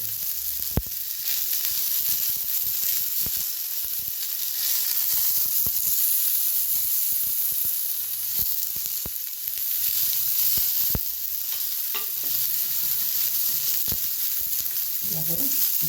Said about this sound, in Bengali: তেল দিয়ে এই টমেটোগুলো সব বসিয়ে দেবো। গোল গোল করে কাটা টমেটোগুলো সুন্দর করে বসিয়ে দেবো।